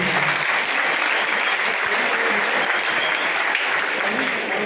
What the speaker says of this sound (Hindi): हमारे माननीय सांसद जी के लिए जोरदार तालियां